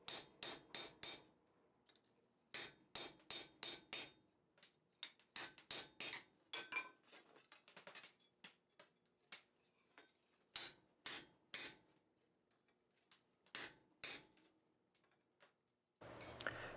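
Sharp metallic hammer blows ring out on a hot cut chisel set against a steel bar at a blacksmith's forge, coming in quick clusters of three to five strikes with short pauses between, close and clear.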